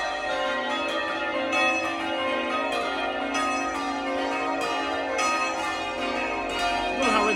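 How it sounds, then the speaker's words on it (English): Church bells peal continuously for a wedding as guests leave the church, a bright layered ringing held at steady volume throughout, with no voices over it. "I don't know how anybody ever complains about church bells."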